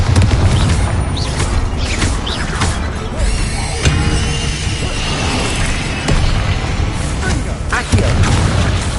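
Bombarda explosion spell cast in the Hogwarts Legacy video game, a dense run of loud booming blasts and crashes layered with battle noise, continuous and close throughout.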